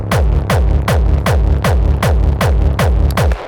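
Distorted industrial techno kick drums pound in a steady, fast four-on-the-floor loop, each hit a loud gritty thump with a falling pitch sweep, about ten hits repeating evenly.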